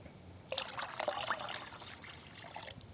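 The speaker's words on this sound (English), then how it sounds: "I'm going to just pour it into my big bucket" Dissolved molasses water being poured from a container into a big bucket for making compost, a steady close trickling splash that starts abruptly and runs on alone.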